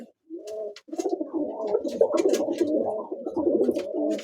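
Two-crested (dukhchubiy) pigeons coo close by in a long, rolling, throaty burble after a short opening note, with faint higher chirps scattered above it and no talk.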